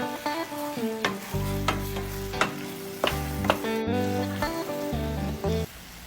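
Fried banana pieces stirred in caramelizing sugar in a pan, a busy sizzle punctuated by repeated utensil clinks and scrapes over a background music bed, close and continuous.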